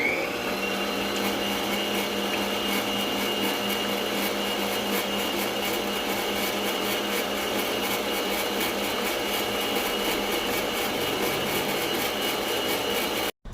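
A blender runs without a break to mix the ingredients for a sweet bread dough, a loud, even motor whir that carries through the whole stretch and then cuts off abruptly.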